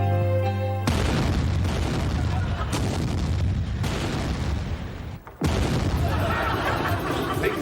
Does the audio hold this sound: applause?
no